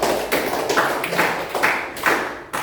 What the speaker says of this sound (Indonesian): kita berikan tepuk tangan dulu untuk kelompok 1